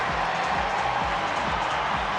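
A stadium crowd roars for a runner during a women's race at the World Athletics Championships in Oregon, a dense continuous din of cheering heard at a distance with low thudding underneath.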